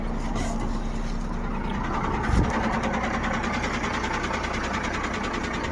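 A truck's diesel engine idles steadily at a Jio fuel pump, a continuous low mechanical hum and rumble with no speech over it.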